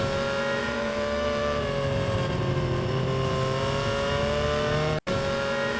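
An AI-generated Formula 1 race car engine drones loud and steady at high revs with a sustained tonal whine, then cuts out abruptly near the end.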